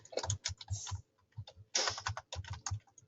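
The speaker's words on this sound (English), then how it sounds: "I'm going to go back and type them too." Sentences typed on a computer keyboard, close and clear: bursts of rapid key clicks with short pauses between words, no talking.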